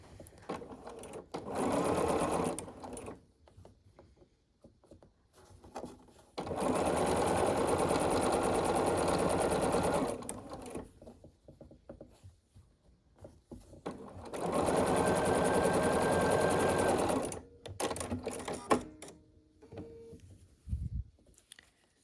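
Sewing machine stitching a quilt block for a sawtooth star, running in three sustained loud bursts of rapid mechanical whirring separated by pauses with small handling clicks and faint movement, close by.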